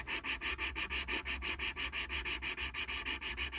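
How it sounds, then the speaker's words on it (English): Steady back-and-forth sanding of a 1/16 scale model tank mantlet cover part, a rhythmic rasping scrub repeating about four times a second, close up and alone. "if you're not sure of your sanding job"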